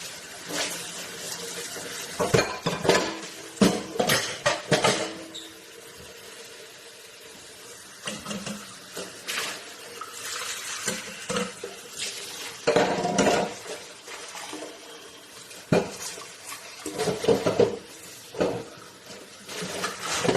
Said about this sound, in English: he decided to record again while doing dishes